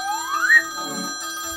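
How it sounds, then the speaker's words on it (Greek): Telephone ringing in the Minecraft video game, a bright rising electronic tone swelling briefly over a steady synthetic background hum. "Παιδιά, τηλέφωνο."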